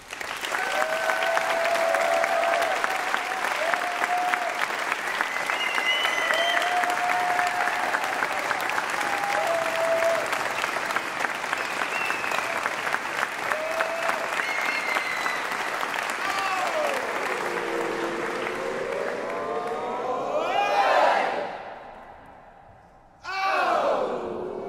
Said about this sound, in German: Das ist euch ein verdienter Applaus.